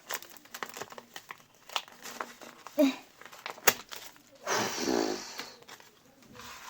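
Crinkling of a plastic or paper packet, a series of crackly rustles with a louder burst of crumpling near the end, close and fairly quiet.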